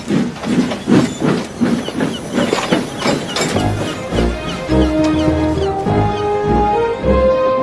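Gordon, a big steam engine, chuffs out of the docks with loud, rhythmic puffs of steam and a hissing exhaust. Sustained tonal sounds, like a whistle or music, rise over the chuffing as it continues.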